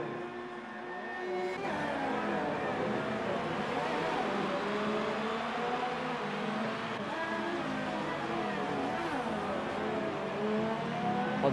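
An F1 2018 race car engine drones steadily in the pits, a continuous whining roar with shifting pitch that holds at an even level throughout.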